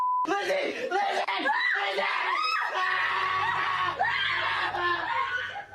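A man being pulled from his bed screams close and loud in repeated rising, wavering cries, mixed with laughing or snickering voices and some talk, while a low hum comes in partway through.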